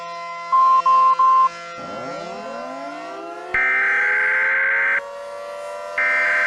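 Electronic alert tones: three short beeps, then a low wail rising in pitch, followed by steady high sustained alarm tones, loud and with no voices.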